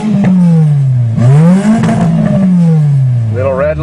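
Repaired Nissan 200SX engine revving up and falling back in one long sweep, close and loud, with a rising whine over the rev.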